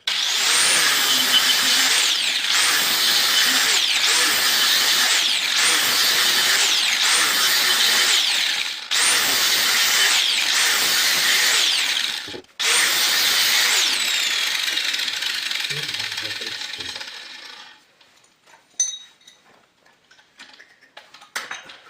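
An abrasive cut-off wheel slicing through a workpiece eight times in a row, a loud sustained grinding screech in repeated strokes with brief pauses between, winding down into quieter clatter at the end.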